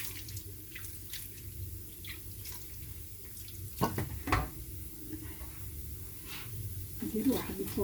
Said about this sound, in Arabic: وغادي نسقيها بميها بارده